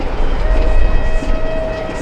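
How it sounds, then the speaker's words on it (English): Merchant Navy class steam locomotive arriving at the Gloucestershire and Warwickshire Railway during an autumn gala, a steady loud rolling rumble with a faint sustained tone over it, heard from a footbridge. "watching the arrival of the Merchant Navy on its return from Cheltenham"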